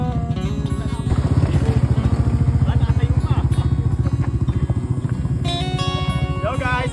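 A motorcycle engine labours on a rough, steep mountain road at Mt. Oro, a loud, rapidly pulsing throb that stays close and steady for several seconds with faint voices underneath.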